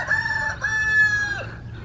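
Chickens in mobile chicken tractors on a homestead, with a rooster crowing a long drawn-out call and hens clucking nearby, loud and close with no talking.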